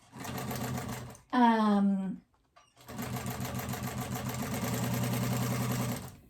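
A sewing machine hums in a steady, even run while stitching a phone pouch at a long stitch length, stopping briefly while a person speaks, then resuming close and continuous.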